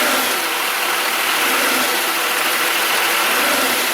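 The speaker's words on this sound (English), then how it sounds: "Okay, you got it in drive? Okay, go ahead and torque the throttle a little." A car engine in drive is revved against the brakes to test a worn engine mount, a loud steady mid-pitched roar holding for several seconds with no talking.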